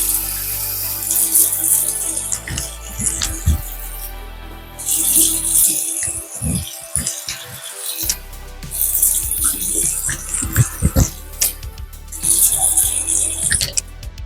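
Tap water runs steadily into a sink as a face is rinsed after a wet shave, with splashing and dripping that drop out briefly midway before the flow resumes.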